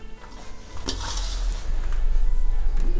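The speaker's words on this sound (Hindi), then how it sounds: "इन सभी को अच्छे से मिक्स कर लेते हैं।" Chopped onion, green coriander and flour for dhaniya paratha are stirred together in a bowl, giving a steady scraping and rustling with a few clinks against the bowl, close and continuous.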